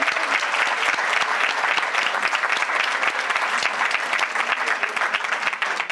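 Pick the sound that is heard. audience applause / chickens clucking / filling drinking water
audience applause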